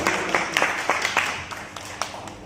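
A political meeting crowd claps on cue, a moderate burst of scattered hand claps that thins out toward the end.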